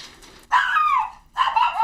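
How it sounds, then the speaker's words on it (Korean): Dogs barking at a stranger, sounding like poorly socialized dogs, in two sharp tonal bursts with a whiny, yelping edge, close and fairly loud with a brief pause between. "개들이 사회화가 부족할 경우 낯선 사람에게 짖는다"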